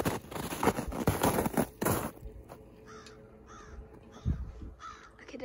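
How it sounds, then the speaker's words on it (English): A crow caws several times in a row outdoors in snow, sharp and fairly close, after a stretch of crunching footsteps and rustling at the start. "Okay, there's a bird and it's making me nuts."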